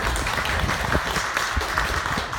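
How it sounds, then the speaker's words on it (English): An audience claps for a campaign volunteer at a county Democratic party gathering, a dense, steady patter of hands lasting a couple of seconds at moderate loudness. "let's clap for Jeremy"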